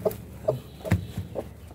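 Rhode Island and native chickens cluck softly, several short clucks a few tenths of a second apart, heard close up on a farm with no talking.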